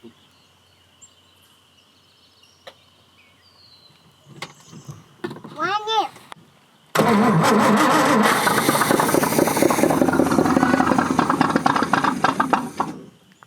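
A Chris Craft Super Sport 17-foot boat engine cranks amid faint bird chirps, then catches and roars into a loud, steady run that holds for several seconds before stopping abruptly.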